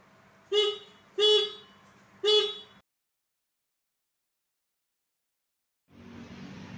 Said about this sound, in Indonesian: kita akan memeriksa bunyi klakson nyaring atau tidak, jelas atau tidak